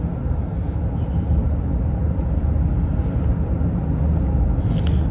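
Inside a 2024 Honda Ridgeline cruising at 50 mph, a steady, loud low rumble of road and tire noise fills the cabin without a break, with no talking.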